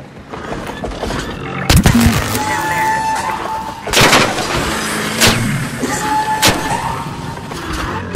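A grenade detonates in a first-person shooter, one sharp loud boom standing out among other bursts of gunfire and impacts, with players talking over the action.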